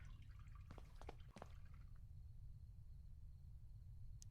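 Water drips in a sewer in the video game The Last Door, a few quick separate drops near the start over a steady low rumble, then quiet with one last drip at the end.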